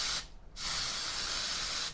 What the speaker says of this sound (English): I'm going to start out with spraying my clip-in extension with dry shampoo